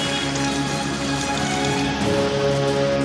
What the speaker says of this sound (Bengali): পশ্চিমের জেলায় বৃষ্টি, পুরুলিয়া বাঁকুড়ায় বৃষ্টি।